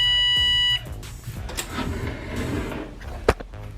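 An oven sounds a steady electronic tone for under a second after its timer is started, followed by quieter clunks and handling noises nearby and a sharp click near the end.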